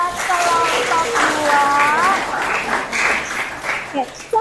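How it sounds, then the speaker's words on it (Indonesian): A classroom of students claps for a presenting group, a steady burst of applause mixed with voices calling out and chattering over it. "Nah sekarang beri tepuk tangan dulu dong buat kelompok"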